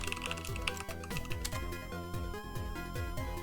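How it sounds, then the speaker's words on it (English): Computer keyboard typing close to a microphone, a quick continuous run of crisp clacking keystrokes at an uneven rhythm, fairly quiet, with no talking. "I apologize if the keyboard is louder than usual"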